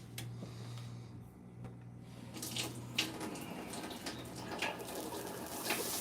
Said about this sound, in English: Give the old splash test. Well, we got sizzle.